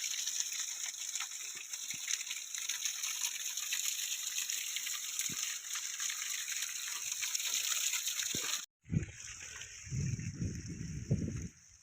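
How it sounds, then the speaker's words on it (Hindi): Glacier meltwater pours and gushes down in a mountain valley at Naltar, a steady broad rushing roar that cuts off briefly near the end before more uneven splashing resumes. "ये पानी नीचे गिर जाता है और"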